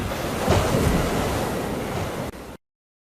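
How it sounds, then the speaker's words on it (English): Heavy waves crash and wash over the deck of a steamship in a typhoon, a dense close roar of surf and wind that surges briefly before cutting off. "while the waves began to hit the deck again"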